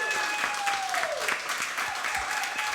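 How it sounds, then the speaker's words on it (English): A live podcast audience claps in a steady, full round of applause with a few whoops, sustained throughout with no pause. "Ladies and gentlemen, give him a round of applause"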